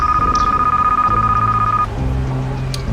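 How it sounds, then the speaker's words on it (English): On the Deal or No Deal game show, a telephone rings in quick repeated electronic pulses over a low musical bed, then stops as the music shifts. "That ring, that phone call, this phone call is going to be extremely important."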